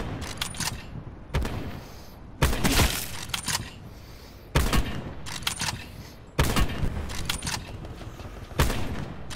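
Gunfire in the video game Call of Duty Black Ops 4, heard as loud repeated bursts of shots in several clusters with brief gaps between, sharp and close, with no talking.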